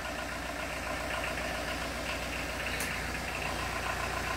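A Citroën BX TRD turbo diesel idles steadily after repair, a continuous, even rumble with a faint knocking chatter and no voices over it.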